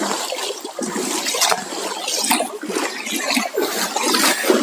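Clear river water flowing through a jungle stream in a rainforest, a steady, close rushing and gurgling with bubbly trickles, continuous and fairly loud throughout.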